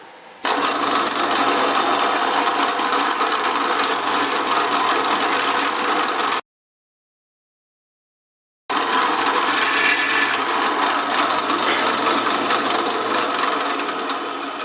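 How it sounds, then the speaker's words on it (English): A power drill whirs steadily into wood with a continuous grinding rasp, stops for about two seconds, then starts up again and runs on, drilling a tuner hole during a violin restoration. "I'm going to drill a hole that size because you can always go bigger"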